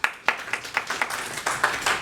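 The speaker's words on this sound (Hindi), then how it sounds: "बिल्कुल सही, ताली बजाइए इनके लिए।" An audience at a motivational speech claps for participants, a short run of sharp, distinct hand claps from a few people at a fairly even rhythm.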